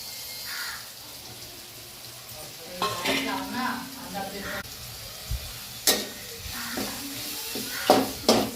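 Masala added to a frying pan with tomatoes and onion for a fish dish, giving a sizzle broken by intermittent clattering stirs and scrapes; crows caw in the background.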